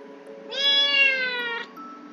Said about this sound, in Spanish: No sé, pero está maullando.